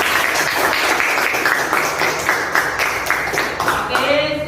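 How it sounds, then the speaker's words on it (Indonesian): A room full of people claps together in steady, dense applause lasting a few seconds, fairly loud and close, with a faint trace of voices mixed in toward the end. "Beri aplaus untuk kita semua."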